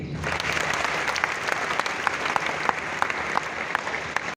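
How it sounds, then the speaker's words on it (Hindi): Audience at a topper talk claps steadily for several seconds, a dense, even applause from a moderately sized indoor crowd that stops abruptly at the end. "पहले एक बार आप इनके ताली बजाइए इनके लिए।"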